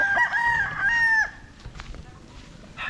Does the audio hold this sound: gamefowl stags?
yes